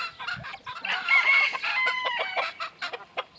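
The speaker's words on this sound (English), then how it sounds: "Other than that, all these groups are all hens." Several hens cluck and squawk close by in a busy, overlapping chorus, with a few sharper calls standing out.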